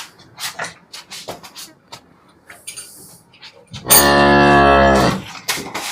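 A cow for sale at a Punjabi farm lets out one loud, close, drawn-out moo lasting more than a second, framed by brief talk and intermittent knocks and rustles.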